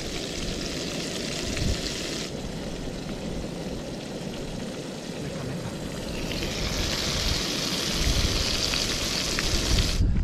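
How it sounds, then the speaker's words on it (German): Fish frying in a pan at an outdoor camp cookout in Norway gives a soft, steady sizzle, with a brighter hiss swelling in toward the end, fairly faint and with no talk. "Hier wird schon schön der Fisch gebraten."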